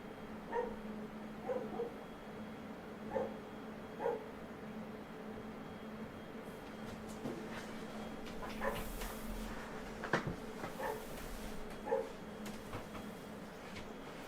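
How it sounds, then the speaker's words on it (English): A dog barks out in the backyard, a string of distant, muffled barks spaced every second or so, with rustling nearby and no voices. "Doggo's out back barking."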